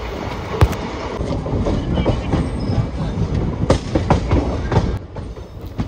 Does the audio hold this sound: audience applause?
no